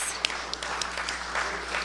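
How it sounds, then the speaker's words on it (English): A transit talk audience claps for the event helpers, a short burst of scattered applause with a few sharper individual claps over a steady hum of the room. "So a round of applause for all of those helpers."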